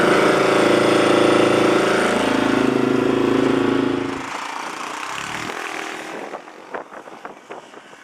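Yamaha XT250 motorcycle engine running with the choke fully on, a loud steady drone that drops sharply in level midway, then continues more faintly with uneven sputtering pulses toward the end.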